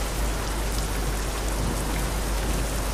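Steady, dense rain from the weather in Euro Truck Simulator 2, a loud continuous hiss of falling drops with no breaks and no voices.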